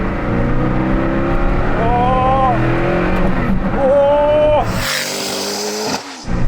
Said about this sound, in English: Time to take the Hennessy Venom out for a drive on a twisty, narrow road.